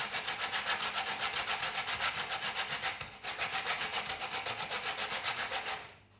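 A lemon is rubbed briskly against a hand grater for apple pie zest, a rapid, even rasping scrape of steady strokes that pauses briefly midway and then tapers off.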